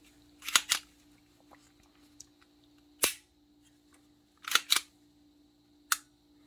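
A 22LR pistol with a factory trigger dry-fired on a tabletop gives several sharp, isolated clicks, some in close pairs, spaced irregularly with quiet between them.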